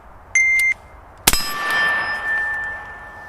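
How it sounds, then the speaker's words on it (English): A rifle bullet, from a budget PSA AR-15 build, strikes a small steel gong target. A loud metallic clang follows a short electronic beep and then rings on as a long, fading tone. "if you can practice hitting a small target like that gong"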